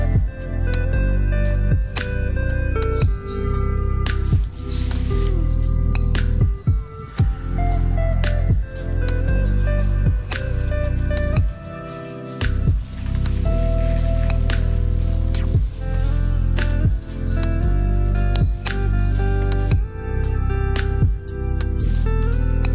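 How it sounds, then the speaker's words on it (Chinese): Water being splashed and sprayed over air plants (tillandsia), a steady loud patter and dripping that runs throughout with brief breaks, with no voices. "看一下阿伯是怎么随性的去浇水"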